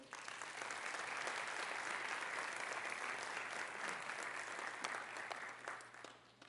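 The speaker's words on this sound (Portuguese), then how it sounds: "Aplauda ao Senhor." A church congregation applauds during a worship service, giving dense, steady clapping from a large crowd that lasts throughout, fairly loud, with no speech over it.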